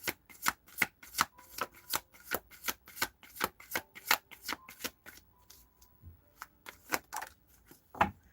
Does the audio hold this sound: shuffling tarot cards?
yes